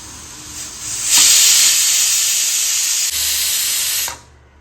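A loud, steady hiss of steam venting from a pressure cooker whistle while cooking bottle gourd biryani, sustained for about three seconds before cutting off abruptly.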